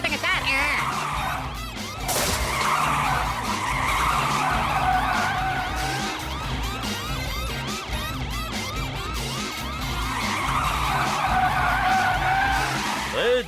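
A cartoon car speeds away with screeching, skidding tires in a race after treasure, a continuous loud squealing whine with engine noise throughout, under a busy animated soundtrack with siren-like tones.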